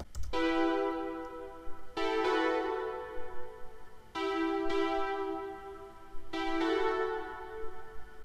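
Sustained synth chords from the second part of a song remake chorus, four held chords each changing about every two seconds, moderately loud with no voices.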